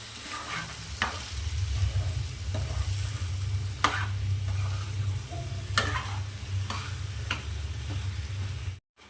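A spoon scrapes and stirs rice with green peas in a hot pan, with a low sizzle underneath and sharp clinks against the metal every second or two.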